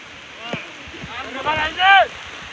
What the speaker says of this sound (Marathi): हे बघा एवढा पाऊस पडतोय